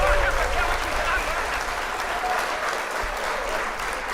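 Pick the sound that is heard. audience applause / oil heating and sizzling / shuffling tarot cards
audience applause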